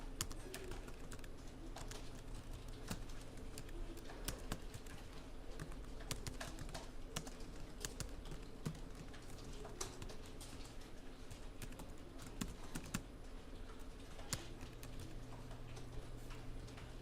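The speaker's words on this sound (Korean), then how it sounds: "배열 반복이라는 이름으로 기본 코드 타이핑." Code being typed on a computer keyboard: quiet, rapid, irregular clicking of keys, continuous throughout with occasional brief pauses, close and soft, no talking.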